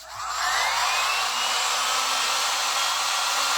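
A hair dryer switching on and blowing steadily to dry freshly blended chalk paint, a loud close whooshing roar that holds constant after a quick start.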